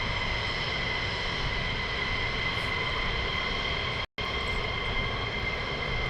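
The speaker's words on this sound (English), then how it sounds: "So we are going to get some F-35 action here at RAF Lakenheath this morning" F-35 fighter jets taxi at RAF Lakenheath, a continuous loud engine whine and rumble with steady tonal hum, unbroken except for a brief dropout, no voices.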